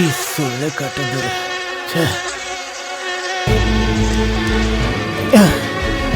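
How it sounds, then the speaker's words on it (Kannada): Mosquitoes buzz in a loud, close whine in a movie scene, with wavering tones at first and then a steady droning hum under a low continuous rumble. "ಸೊಳ್ಳೆ ಕಾಟಪ್ಪ, ನೋಡ್ತಾ ಇದ್ದೀನಿ."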